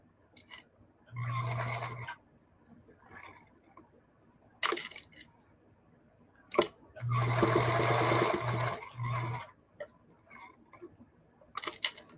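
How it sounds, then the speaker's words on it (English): A home sewing machine stitching a fabric hut onto a fabric postcard, with two close bursts of motor whir and needle chatter, the second longer and stuttering, separated by quiet handling noises. "So I'm sewing around this hut"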